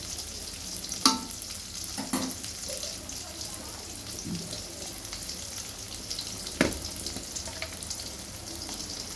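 Onion and garlic fry in a pan with a steady, close sizzle, broken by a few spatula scrapes and knocks as they are stirred.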